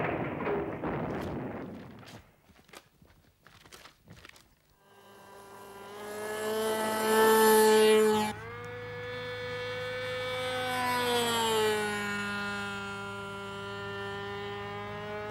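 A small radio-controlled model aeroplane's propeller engine whines overhead, its pitch rising and falling as it passes, after some thumps and knocks at the start.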